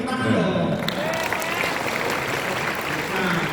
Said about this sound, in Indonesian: Ketua Kadin, tepuk tangan dong.